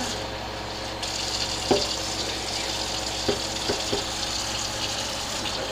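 Water poured into a pot of batter, bean juice and seasoning while cooking, a steady close splashing stream running throughout with a few soft knocks and no talk.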